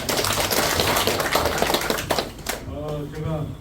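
Applause at a village assembly meeting for a pastor: a crowd claps in a dense, steady patter that fades out near the end as a voice speaks over a microphone.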